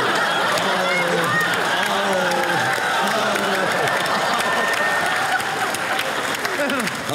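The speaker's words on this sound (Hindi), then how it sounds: "और तालियां बजती रहनी चाहिए" Steady, loud audience applause at a Bollywood show, a dense wash of many hands clapping continuously with crowd noise and some voices underneath.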